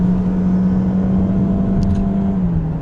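A 2019 Toyota Corolla engine strains uphill with a steady, loud drone, holding a constant low hum, laboring continuously without letup.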